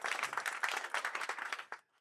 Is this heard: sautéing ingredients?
no